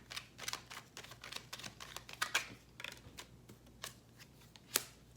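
Tarot cards being shuffled and drawn for an Emperor reading, heard as a quiet run of soft, irregular card flicks and riffles with a few sharper snaps, close and alone.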